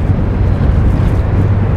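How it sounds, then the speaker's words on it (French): Fierce wind blowing near Laguna Esmeralda outside Ushuaia, a loud continuous low rumble and microphone buffeting that fills the whole stretch with no talk. "le vent il souffle tellement fort"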